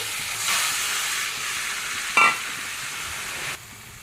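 Fish head and bottle gourd fry with spices in a pan, giving a steady close sizzle that swells up, with one sharp clink of a utensil midway before the hiss drops away near the end.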